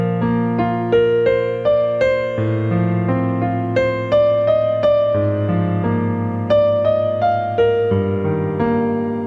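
Solo piano plays the second line of the second stanza of a song, a steady melodic run of struck notes over held lower chords, close and clear without talk.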